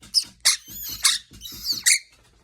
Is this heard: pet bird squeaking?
yes